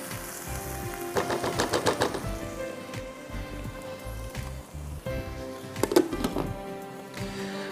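Food fries and sizzles in a covered pan on the stove, a faint, low crackle with rhythmic bursts of spitting and small clinks rising twice over the quiet hiss.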